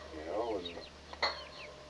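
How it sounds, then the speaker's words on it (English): Chickens cluck and murmur while climbing a ladder up to a mezzanine perch inside a coop, with a few soft, close calls over steady background noise and one louder cluck near the end. "right now you're watching the chickens climbing up the ladder to the mezzanine"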